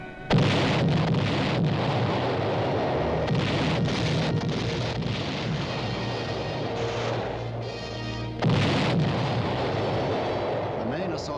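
Heavy naval shore bombardment before the Omaha Beach landing rumbles as a dense, continuous barrage of distant blasts, with a sharp fresh burst near the end and someone narrating over it.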